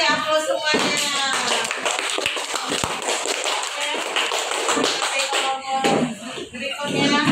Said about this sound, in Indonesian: Silakan kita kasih aplaus semuanya.